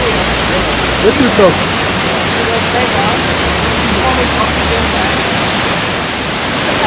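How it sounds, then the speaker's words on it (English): Gurara Waterfall pours and crashes onto rocks in a steady, loud broadband roar that fills the whole stretch, with a few brief spoken words over it. "I hope you could hear the whooshing sound of the waterfall as it crashes, as it falls to the ground."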